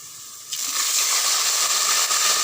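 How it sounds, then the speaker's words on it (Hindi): Water poured into a pan of browned onions for beef yakhni pulao sets off a sudden loud hiss about halfway in, then a dense, steady sizzle that stays near and strong. "पानी मैंने इसमें डाल लिया है।"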